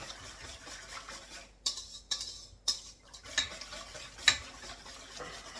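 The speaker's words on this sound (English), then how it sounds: "And I'll whisk that up." A whisk stirs a soy sauce marinade in a bowl, making irregular clicking and tapping strokes against the sides, close and moderately loud, with no talking.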